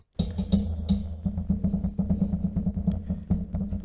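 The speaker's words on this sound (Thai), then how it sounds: "ทีนี้ผมก็จะเคาะตรงตัวฐานนะฮะตรงสปริง" Rapid, irregular knocking and tapping on the spring base of a Presonus PD70 microphone shock mount, with a springy rattle under some hits; close and fairly loud, with no talking.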